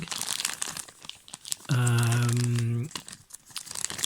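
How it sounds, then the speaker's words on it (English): Plastic packaging of a Frost Cutlery Chipaway fixed blade knife crinkles loudly in one sustained burst of about a second, set between quieter handling rustles close to the mic. "Let's have a look at the knife. Comes in this plastic packaging."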